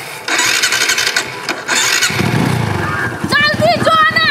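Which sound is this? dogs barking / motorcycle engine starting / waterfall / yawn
motorcycle engine starting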